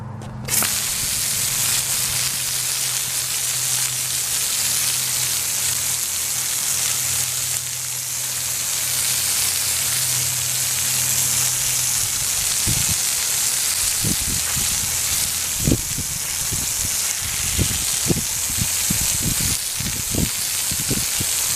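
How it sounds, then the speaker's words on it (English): A garden hose sprays water across a driveway to rinse off rust remover, a steady loud hiss with a low rumble early on, then scattered splashes and thuds toward the end. "it's time to hose it down and see how it looks"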